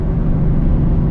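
A 24-year-old truck with an 8.1-litre gas V8, accelerating while towing 18,000 pounds: a steady, loud, low engine drone and road rumble that holds evenly throughout.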